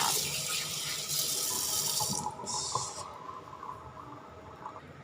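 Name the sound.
washing tilapia fish under running tap water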